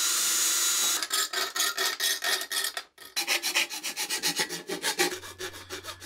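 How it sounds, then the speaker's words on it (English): Hand sanding of hammered aluminium helmet pieces to a matte finish: a rapid, rhythmic rasping of strokes back and forth, close and moderately loud, following a brief steady hiss at the start. "so I was sanding all the pieces as I go"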